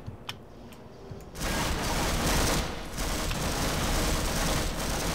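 Gunfire in the video game Half-Life: after a couple of faint sharp shots, a loud, dense burst of continuous shooting starts and fills the rest of the moment.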